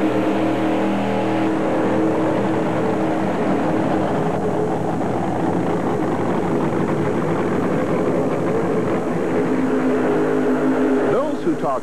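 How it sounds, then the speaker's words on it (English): Pulling trucks roar at an indoor truck pull in the Salt Palace, Utah, a loud sustained engine drone throughout with a narrator speaking over it. "a truck pull is very, very loud"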